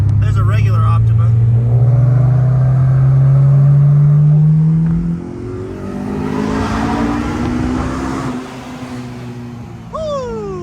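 A car engine revs hard and accelerates, its pitch climbing steadily for several seconds before dropping off. Excited voices talk over the engine throughout.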